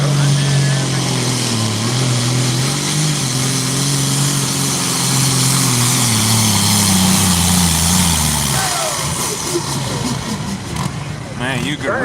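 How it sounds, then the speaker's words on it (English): A tractor engine roars and strains under load during a tractor pull at Chamber Acres in Rockwell, Iowa, with a loud, sustained, rising drone over about nine seconds before it drops away, and an announcer talks over it. "It's got a lot of torque on that tractor."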